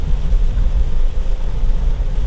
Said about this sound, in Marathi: चांगलाच पाऊस कोसळायला लागलाय.